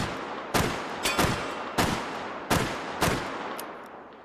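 Revolver shots in the VR shooting game H3VR, five sharp, loud cracks spaced roughly half a second to a second apart, each with a brief decaying tail over a steady low background hum.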